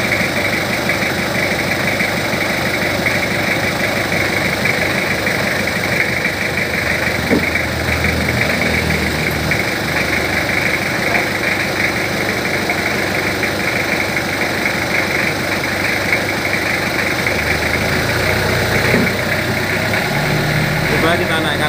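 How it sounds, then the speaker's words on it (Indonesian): Car engine idling steadily with a raised RPM, a continuous close rumble and vibration heard while someone talks over it, during a check of a cylinder head still leaking after being taken apart. "Coba kita naikkan RPM dan ini kita gas."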